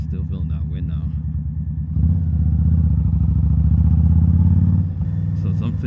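A motorcycle ridden on a cold early-season ride, its engine rumbling steadily under wind noise and then swelling louder as it pulls harder before easing back, with a rider talking over it.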